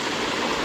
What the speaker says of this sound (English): here's our 47-foot Erie Falls